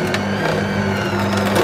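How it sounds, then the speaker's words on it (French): A bread slicer cuts through a loaf at home, giving a steady, close grinding and rasping hum that runs without a break and drowns out everything else. "On va tester la trancheuse de pain"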